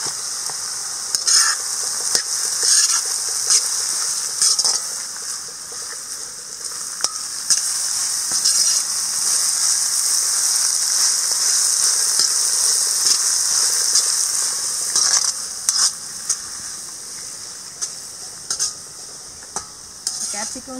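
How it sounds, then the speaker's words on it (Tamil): Green capsicum strips sautéing and being stirred in a pan over an outdoor village fire, a steady bright sizzle running throughout with frequent scraping and clinking of a metal ladle against the pan. "கேப்சிகம் சேர்த்து ஒரு நிமிஷம் வதங்கட்டும்"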